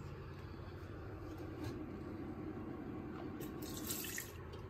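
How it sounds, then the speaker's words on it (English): Water runs from a tap into a cleaned bowl, one litre poured to start steaming chocolate and prune puddings, a faint steady splashing rush with a few brighter drips. "we put some water in it and get the steaming going"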